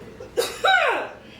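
One person gives a single sharp cough up close, and a short rising vocal sound follows it at the same level.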